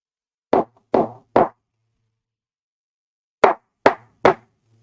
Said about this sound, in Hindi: मैंने भी कुछ चीजों को नॉक करके आपको आवाजें सुनाई।